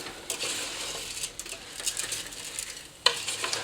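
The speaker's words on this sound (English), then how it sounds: "we're going to stir that through so all the rice gets nice and coated in all that lovely olive oil and butter" Risotto rice stirred in a pan with olive oil and butter, a soft continuous scraping and gentle sizzle with light patter, close and quiet, with one sharper clink of the spoon near the end.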